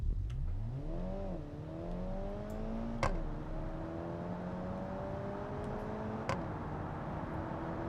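A 100-horsepower sports car's engine in BeamNG drones and rises in pitch, broken by two sharp clicks of gear shifts spaced a few seconds apart.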